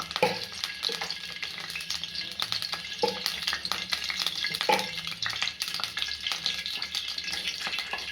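Cumin seeds sizzling in about two spoonfuls of hot oil in a dry kadhai, a steady crackling fry with occasional stirring clinks of a spoon against the pan, close and continuous.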